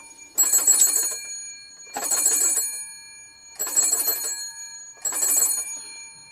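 Vintage British Telecom wall-mounted extension telephone bell ringing in four bursts, each about a second long with even gaps between them, loud, close and metallic, with no speech over it.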